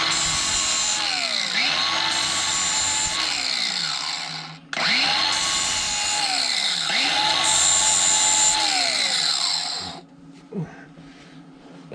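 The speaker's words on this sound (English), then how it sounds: "We'll take our grinder." An angle grinder flattens and bevels the end of a metal suspension link, whining loudly and close with repeated pitch dips as it bites under load, briefly cutting out midway before spinning down near the end.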